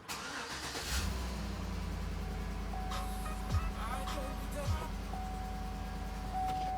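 A 2012 Chevy Tahoe LT engine cranks and catches, then settles into a steady, loud idle with a couple of brief revs, heard up close with the hood open.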